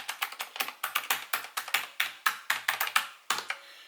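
Brisk typing on an Azio Retro Classic Bluetooth keyboard with typewriter-style keys, close and crisp, a rapid irregular run of clacky keystrokes with a brief pause near the end.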